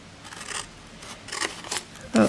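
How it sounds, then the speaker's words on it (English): Scissors snipping little flaps into card for a gift box, several quick close crisp cuts in an uneven rhythm, with a voice talking faintly at moments. "so we just cut lots of little flaps out"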